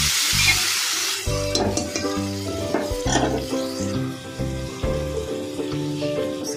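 Beef heart dusted with turmeric sizzles and fries loudly in a pan while being stirred, a steady close-up hiss broken by scraping stirs and clinks, no voices.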